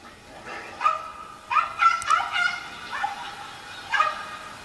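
A man yaps in short, high, squeaky bursts, imitating a chihuahua's barking at a WWE SmackDown event. The yips come in uneven clusters and are fairly close.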